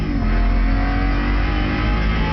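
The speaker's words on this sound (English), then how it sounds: "It's just a fast car." An Audi R8 in Gran Turismo 5 Prologue accelerates with a loud, sustained engine drone at steady revs, close and without pause.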